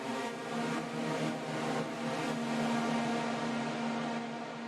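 A dense, washed-out synth drone with a huge 20-second reverb tail, sustaining as a thick, steady atmospheric pad with faint pulsing swells.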